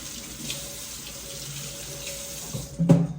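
A kitchen tap runs steadily as hands are rinsed under it, a close, continuous splash of water that ends with a short clunk.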